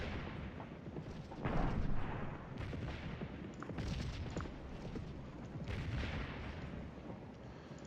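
Civil War artillery shelling in the strategy game Scourge of War Gettysburg, repeated cannon booms and crackling musketry rolling at a moderate distance, with several heavier thumps standing out.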